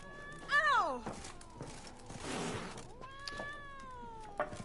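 A cat in The Witcher 3 gives several meows, one loud drawn-out cry near the start and softer ones later, over faint game ambience and a brief burst of noise.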